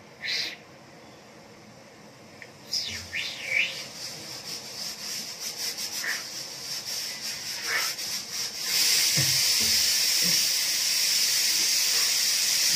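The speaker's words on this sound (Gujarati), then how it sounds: "કુકર એ સીટી મારે" Pressure cooker in a home kitchen where potato chips are being prepared, giving a steady loud steam hiss that builds and holds strong through the second half, with scattered clatter and rubbing sounds earlier.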